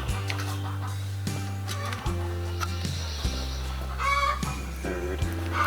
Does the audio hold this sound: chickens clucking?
yes